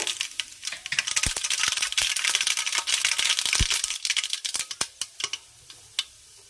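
Ginger, garlic and onion hit hot oil in a pan for chapati roast, giving a close, steady hiss broken by sharp clattering taps and scrapes that thin out into separate clicks near the end.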